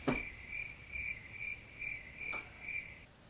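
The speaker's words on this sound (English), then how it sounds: "I know that was a cricket noise" A cricket sound effect chirps in a steady rhythm, about six evenly spaced trilling bursts, clear and fairly close, alone without any other sound.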